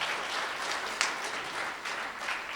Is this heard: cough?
no